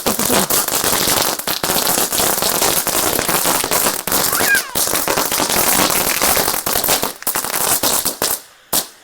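Top Gun firecracker shots burst at night in a rapid, dense string of loud cracking pops. They rattle on almost continuously for several seconds, then thin out and stop.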